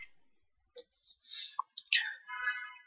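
Mouse clicks confirming an OK dialog in Creo CAD software, a few short sharp clicks amid faint computer interface tones, close and quiet with no talking.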